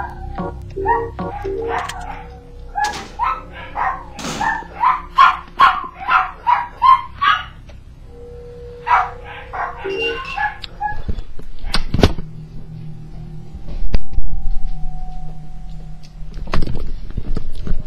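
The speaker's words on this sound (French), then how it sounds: "vous supporterez les aboiements des chiens." Dogs bark repeatedly and loudly nearby in quick rhythmic bursts, then yips and whimpers, with a door thump and scattered knocks later.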